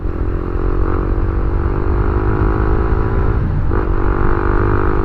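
A motorcycle engine drones loud and steady while riding along the bypass road from Sta. Fe, Leyte toward Tacloban City, with a slight pitch shift partway through and no speech.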